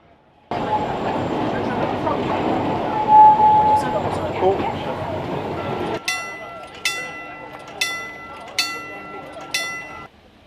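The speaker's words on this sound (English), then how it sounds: "it looks like the train's just pulling in" A vintage train at Fawley Hill pulling in, with a steady rumbling roll that gives way to a regular run of sharp metallic clicks and squeals as it slows, close by and fairly loud.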